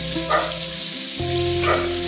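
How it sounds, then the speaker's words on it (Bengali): Pieces of pointed gourd (potol) fry in oil in a kadai over a lowered gas flame, giving a continuous close sizzle with a low steady hum underneath. "পটলটা ভাজার সময় আমি গ্যাসটা কমিয়ে রাখবো, যাতে পটলগুলো পুড়ে না যায়"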